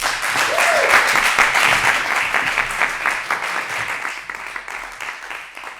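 A debate-competition audience applauds after a quarter-final pleading round, steady dense clapping that fills the room and gradually thins toward the end.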